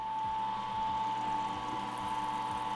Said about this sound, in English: You can see here, the pump is running. just circulating the wort.